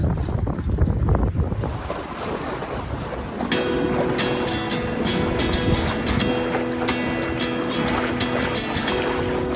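Wind and water while a sailboat beats upwind at about 5 knots in 7 knots of breeze: a loud, close rush of wind buffeting the microphone over steady water wash along the hull, with brief rattles and taps from the boat.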